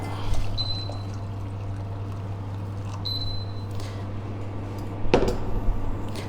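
Water pours from a kettle into a pan while tea is being made, a brief splashing pour with a thin trickle, a second short pour, then a louder clatter near the end over a steady low hum.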